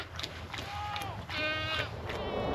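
Goats in a herd on the east pasture bleat close by, several wavering calls one after another over low background rumble.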